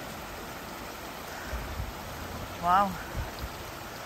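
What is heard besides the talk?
small river flowing under a bridge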